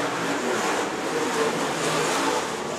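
Modified and stock race cars roar around the dirt oval at Shelby County Speedway, a dense continuous engine drone at a distance with no clear individual passes.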